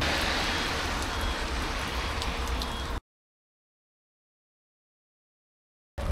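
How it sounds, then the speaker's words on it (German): Steady rain falls on the ground at a campsite, a dense hiss for about three seconds, then silence before the patter briefly resumes at the end. "Es regnet. Die Erde wird nass."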